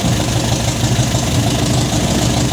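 An MGB car engine under restoration runs at a steady idle with a low, continuous rumble and some knocking vibration, loud and close, with no talking.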